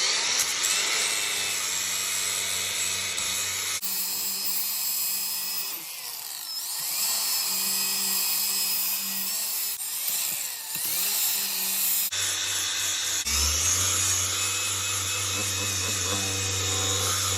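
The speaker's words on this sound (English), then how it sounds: "I must point out this little angle grinder that I'm using, it's not a Makita, it's actually made for Makita batteries" Small cordless angle grinder running on Makita-type batteries, sanding a live edge wood slab: a continuous high whine with steady abrasive rasping, and the motor pitch shifts several times as the load changes.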